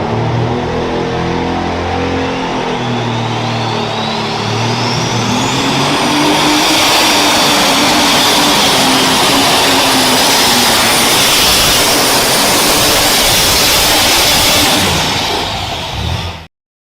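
A pulling tractor's engine roars through a tractor pull pass, loud and sustained for the whole run, with a high whine that climbs as the pull builds before it cuts off at the end.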